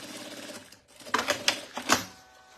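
Sewing machine stitching a zipper onto fabric, right sides together, in short close bursts of rapid mechanical clatter with pauses between runs, no talking.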